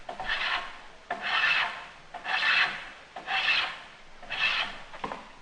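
Five rhythmic rasping strokes of a hand plane shaving wood, each a bright scraping swoosh about a second long, close and fairly loud with no talk.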